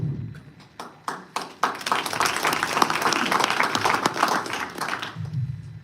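An audience at a candidate forum hosted by Indivisible Jacksonville applauds, starting with a few separate claps that quickly swell into sustained, fairly close applause before fading out.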